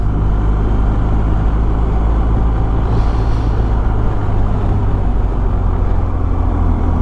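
A BMW R1250 GS motorcycle being ridden produces a loud, steady low engine drone mixed with wind roar, constant and close throughout.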